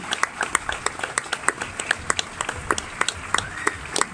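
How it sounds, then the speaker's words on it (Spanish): An audience at the Jazz a la Calle 2022 street jazz concert gives a Carricola Jazz Orchestra set a short burst of applause, with a few close, sharp individual claps standing out over the crowd's clapping. "Creo que como mercenarios nos merecemos un aplauso a todos"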